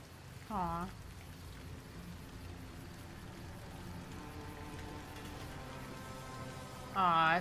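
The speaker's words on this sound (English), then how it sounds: "it's such a rainy day." Soft, steady rain falls in the Fallout New Vegas game, a faint continuous patter under a low ambient hum, with brief voiced sounds at the start and end.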